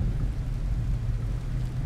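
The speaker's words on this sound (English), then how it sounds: "Because it's raining" Steady rain in the farming game Farmer's Dynasty, a dense continuous hiss with a low rumbling undertone, loud and unbroken throughout with no voices.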